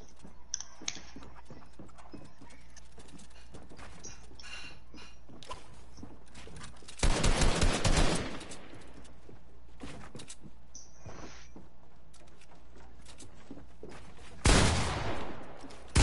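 Gunfire in the video game Fortnite comes in two short, loud rapid-fire bursts separated by several seconds, with faint clicking and game ambience in between.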